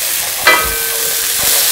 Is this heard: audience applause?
no